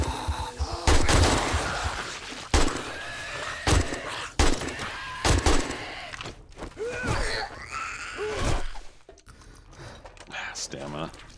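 Sharp, loud single gunshots in a survival video game, spaced irregularly, with people talking between the shots.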